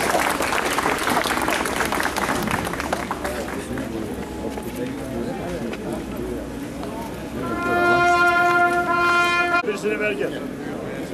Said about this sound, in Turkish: Heykeltıraşımızı alkışlayalım